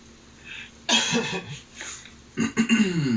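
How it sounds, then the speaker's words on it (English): A close, harsh throat-clearing cough, followed by a softer rasp and then a second gravelly clearing with a low vocal grunt. "Let me clear my throat."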